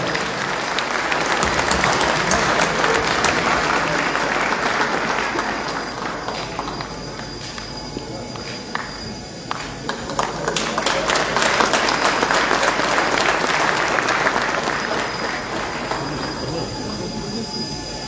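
A large outdoor crowd at a pre-election rally in Gyumri claps loudly and continuously, swelling, dipping briefly, then rising again in a dense wash of applause.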